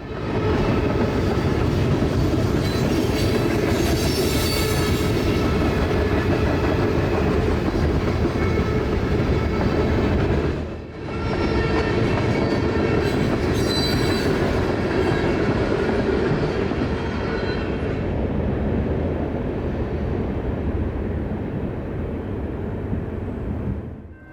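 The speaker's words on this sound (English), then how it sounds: "here would come our last train for the night" A freight train rumbles past at length with a steady roar and clattering wheels, loud and close, briefly dipping before the noise continues and gradually fades.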